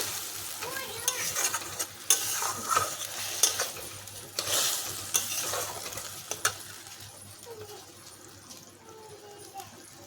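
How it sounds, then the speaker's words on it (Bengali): Spices frying lightly in hot oil for a vendi shorse dish, a steady close sizzle broken by repeated stirring scrapes and occasional utensil clinks against the pan. "এটাকে আমি এখন হালকা জাল করে নেব।"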